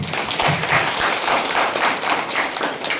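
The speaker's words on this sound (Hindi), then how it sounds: "हमको ताली बजाना है माता मरियम के लिए। तालियां बजाइए," A church congregation claps together during a worship talk about Mother Mary, a dense, steady applause filling the room at a strong level with no voices over it.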